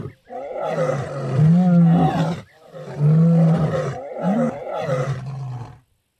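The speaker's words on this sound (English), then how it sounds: "Lions are very vocal animals, their roars not only protecting their territory from other carnivores, but also from stranger lions." A lion in a Roblox game gives three deep, drawn-out roars in succession, loud and close, each rising and falling with a rough groaning tone and brief gaps between them.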